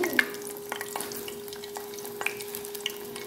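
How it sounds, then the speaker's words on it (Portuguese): Beef steak fries in a pan with a soft sizzle, punctuated by light scraping and stirring taps at irregular intervals. "E aqui tá fritando o bife"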